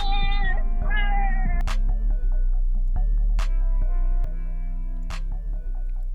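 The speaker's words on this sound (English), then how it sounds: "I just added this last counter melody to give it some like give it some movement in the beat." A produced beat with an added melodic counter line over bass and percussion: bright sustained synth notes weave above steady low bass, punctuated by a few sharp hits, continuous and loud with no talking.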